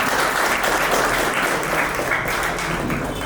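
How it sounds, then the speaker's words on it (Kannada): A stage event audience claps to welcome a guest, loud and dense steady applause with no break across the whole stretch. "ನಿಮ್ಮೆಲ್ಲರ ಚಪ್ಪಾಳೆಯೊಂದಿಗೆ ವೇದಿಕೆಗೆ ಆಹ್ವಾನಿಸ್ತಾರೆ."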